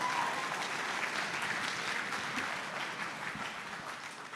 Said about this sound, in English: big round of applause for Jacob as well